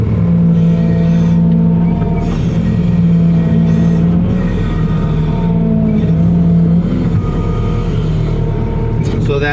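A heavy equipment loader raises its boom arms to fill a heaped bucket, its engine giving a loud, steady diesel drone with a sustained low tone that barely changes over the whole stretch.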